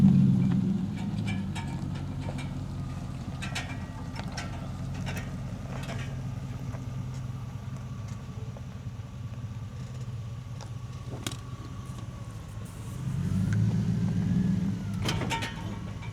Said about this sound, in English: I hear the sound of roaring trucks.